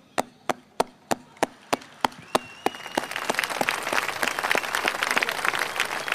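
A live stage performance of a song opens with a rhythmic foot-sound beat of eight or so crisp, evenly spaced taps, then gives way to a swell of audience applause and crowd noise.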